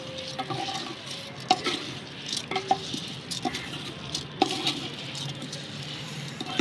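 Vegetables, rice and two kinds of lentils frying in a pan for khichuri, soft sizzling under repeated scraping and stirring strokes with occasional clinks of the utensil against the pan.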